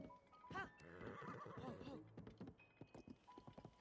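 A giant horse in The Legend of Zelda: Tears of the Kingdom lets out a loud, close, quavering whinny lasting about a second and a half, followed by softer thuds and scattered clicks, with faint speech-like sounds alongside.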